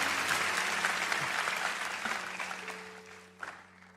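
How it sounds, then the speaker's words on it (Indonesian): Church congregation clapping at a teen worship service, a dense sustained round of applause that gradually fades toward the end. "Beri tepuk tangan bagi Tuhan"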